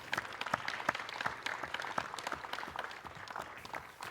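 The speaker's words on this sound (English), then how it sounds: "please give her a round of applause" Audience applause at a mayoral candidate forum held in a sanctuary: a steady wash of many hands clapping for about four seconds at moderate volume, fairly close, with no voices over it.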